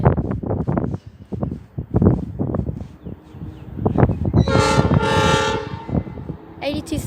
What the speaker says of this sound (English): there's the 82 class, so I'll pause when it comes. And it looks like it's a grain train.